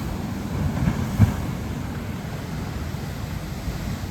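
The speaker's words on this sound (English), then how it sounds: "In the distance behind me is a cave system where the waves enter and they create this sound like Thor slamming his hammer down into the earth" Ocean waves surge into the Thor's Well blowhole cave on the Oregon coast, a steady low roar of surf and wind with one heavier thump near the middle, heard from a distance with no voices.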